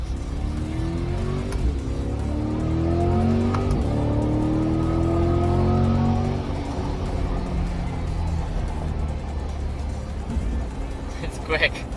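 A 2021 Chevrolet C8 Corvette accelerating hard, engine and exhaust rising through the gears with repeated upward sweeps, heard from inside the cabin with a moderately loud steady drone and a voice talking over it.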